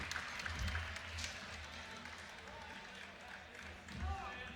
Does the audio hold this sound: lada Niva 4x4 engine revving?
no